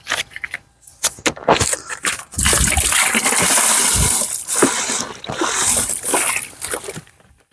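Antifreeze pours into the engine of a 2003 Sea-Doo GTI 717cc personal watercraft, a close, steady liquid splash and gurgle lasting several seconds, with scattered clinks and handling noises around it.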